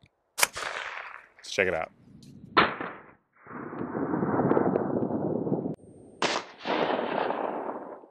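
Sharp gunshots fire 5.7 full metal jacket rounds at a foldable Level IIIA+ armor shield, several loud cracks spaced apart between stretches of talking.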